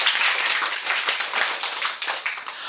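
A classroom audience claps loudly in a steady, dense burst of hand claps throughout, with no voices rising above it.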